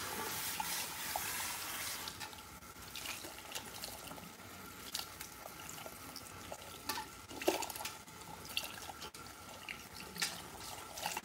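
Water running and splashing while shampoo is rinsed out of very thick hair, a steady wet hiss with small irregular splashes and drips, fairly quiet and close, with no talking.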